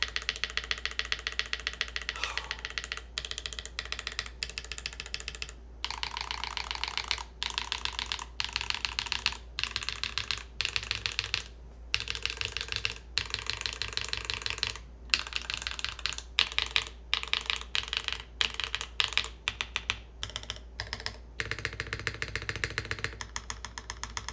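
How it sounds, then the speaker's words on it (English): Computer keyboard keys, including the arrow keys, pressed in quick irregular bursts of crisp clicks with short pauses between runs, heard close and alone over a low steady background hum. "How do the arrow keys sound?"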